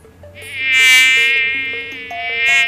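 Whiny mosquito buzz from the Plague Inc. strategy game, a steady high insect drone that swells loud and then eases off, heard alone over soft in-game music tones.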